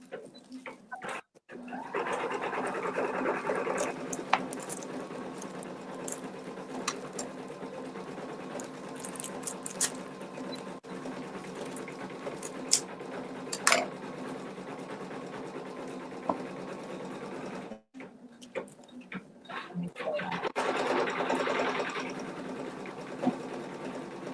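A sewing machine stitches eyes and whiskers onto a craft piece, running in a steady close whirring buzz for long stretches with brief stops in between.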